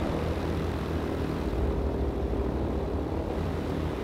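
A B-29C bomber's propeller engines in World of Warplanes: a continuous, loud, droning roar that stays even throughout, with no talking.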